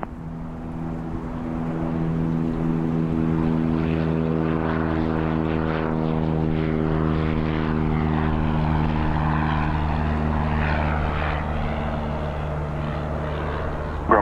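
A Grumman propeller airplane takes off from runway 27 right at Gillespie Field, San Diego, its engine a loud, steady droning roar with strong harmonic tones throughout, holding near and constant for the whole stretch with no talk.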